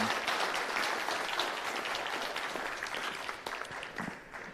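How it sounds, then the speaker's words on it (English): Delegates at an airport industry annual congress give a warm round of clapping to thank their host. The applause is steady and fairly close, then gradually tapers off toward the end. "a warm, loud applause for Hermes for hosting us last night and the generosity"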